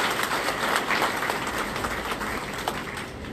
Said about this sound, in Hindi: एक बार जोरदार तालियां इस कॉलेज के लिए।